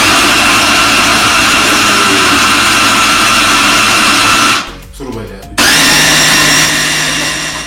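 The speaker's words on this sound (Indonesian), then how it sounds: "gördüğünüz gibi blenderda çektik" A kitchen blender runs loud and steady while blending soybeans for homemade tofu, cutting out abruptly for a moment before restarting at full power, with a voice speaking briefly over it.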